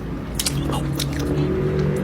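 Someone bites and chews food up close during a Jollibee dice challenge, soft moist chewing and squishing sounds with a steady low hum underneath and no clear talk.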